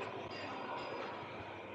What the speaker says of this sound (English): Train go to Hässelby.